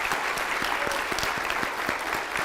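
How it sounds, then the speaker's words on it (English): Steady applause from an audience after a children's stage show, dense and continuous throughout with a few sharper individual claps standing out. "If we can give them one more round of applause."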